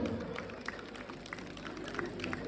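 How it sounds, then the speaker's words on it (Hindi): Crowd applause for contractor Bittu Mistri at a Ramleela club gathering in Billawar: scattered, fairly faint clapping with soft crowd murmur, steady across the moment. "उनके लिए जोरदार तालियां हो जाए"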